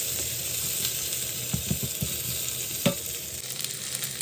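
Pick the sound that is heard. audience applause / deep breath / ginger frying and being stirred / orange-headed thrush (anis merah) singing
ginger frying and being stirred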